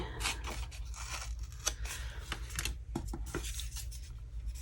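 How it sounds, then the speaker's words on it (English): A piece of paper being torn by hand in a Big Happy Planner: several close, crisp ripping and crinkling bursts with a few sharp snaps, set against a quiet background hum, with no one speaking. "we're just going to tear this way"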